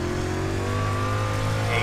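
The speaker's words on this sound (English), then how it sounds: "We're not revving as hard in the corners," A street stock race car engine in the iRacing video game, on the Eldora dirt track, drones steadily at high revs with a faint rising whine, loud and continuous throughout.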